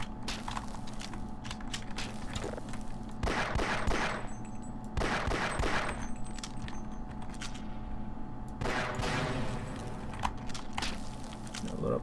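Shotgun blasts in the video game Half-Life, three loud broadband bursts spaced a few seconds apart over a steady droning game ambience, the last one trailing into a busier rattle.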